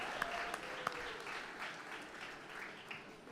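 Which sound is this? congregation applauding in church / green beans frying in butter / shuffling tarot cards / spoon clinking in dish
congregation applauding in church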